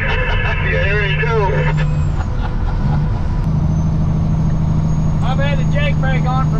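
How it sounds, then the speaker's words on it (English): A big truck's Jake brake (engine compression brake) gives a loud, steady, deep droning rumble heard from inside the cab. It holds without a break for the whole stretch while people talk over it. "I've had a Jake brake on for about 2 miles or three."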